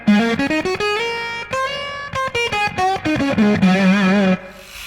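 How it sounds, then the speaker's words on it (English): A guitar plays a quick melodic line through an octave fuzz pedal set for more gain and less octave, with distorted, sustained notes and rapid phrasing, close and loud with no talk. "listen to how much more gain and less octave this one has."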